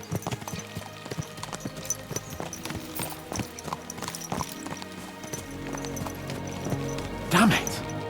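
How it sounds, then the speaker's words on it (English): Horses clip-clop at a quick, steady gallop in Kingdom Come: Deliverance II, hooves beating close and loud, with a horse's whinny rising near the end. "Let's really spur these horses on, eh?"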